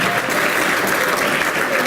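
Dense, steady applause from an audience at a 2018 gathering, a continuous wash of many hands clapping with no pauses and no one speaking over it.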